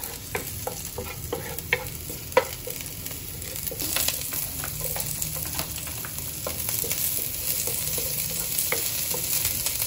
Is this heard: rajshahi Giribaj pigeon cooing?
no